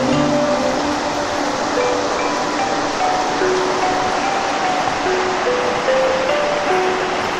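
Natural river flowing at Belantara Resort, a continuous broad rushing of water with faint tonal sounds in the background, steady and moderately loud.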